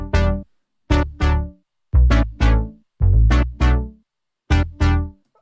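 Bass and synth together in a remix, playing short, punchy, heavily saturated chord stabs in a choppy rhythm, loud and close with sharp gaps of silence between hits.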